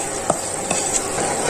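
A spoon scrapes and stirs roasted semolina in a pot while halwa cooks, a steady hissing rasp with a few soft knocks, heard close with no talking.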